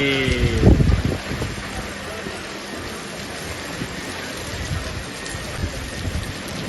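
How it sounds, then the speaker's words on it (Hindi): Hail pours down in Delhi during an evening storm, a dense steady clatter and hiss of falling ice with a louder burst near the start, continuous and close. "ओले पड़ रहे हैं दिल्ली में।"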